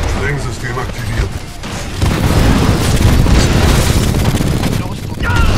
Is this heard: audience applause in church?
no